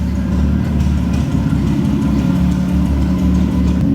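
A Nissan R32 GTR running naturally aspirated on a base map idles steadily nearby, a loud low rumbling drone with slight fluctuations and no talk.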